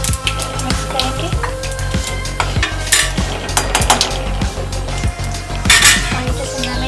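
A spoon scrapes and clinks steadily through roasted garlic paste and turmeric in a metal pan, with a soft sizzle underneath, near and continuous, with a voice speaking faintly at times.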